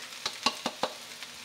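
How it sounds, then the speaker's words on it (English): Onions and garlic tipped into leftover oil in a pan give a few soft, sharp sizzles and stirring scrapes, four or five brief bursts over a quiet background. "with what's left of the oil in the pan, I'm just going to tip in the onions"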